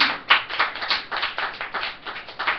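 A group in a room claps in a rhythmic pattern of praise, a series of sharp hand claps in quick, uneven beats close by, with no talking.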